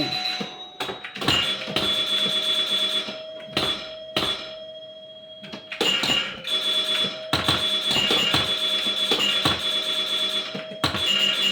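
A virtual classic pinball table in a video game rings out with repeated electronic bell chimes and ringing tones in bursts, mixed with clacks and bumper hits at a lively pace.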